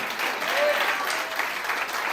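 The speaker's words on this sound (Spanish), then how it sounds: "¿Cuánto le dan un aplauso a Jesús?" A church congregation applauds in a dense, continuous burst of clapping that fills the room, loud and close, with faint vocal tones mixed into the crowd noise for a couple of seconds.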